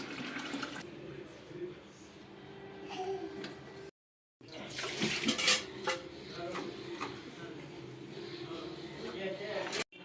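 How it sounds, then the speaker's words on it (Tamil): Food in a bowl is mixed by hand with masala and kesari colour powder, bringing soft stirring, scraping and clinks of utensils against the dish. A person talks over it, and there is a brief silent gap partway through. "இது வந்து நல்லா மிக்ஸ் பண்ணி வச்சுட்டேன்."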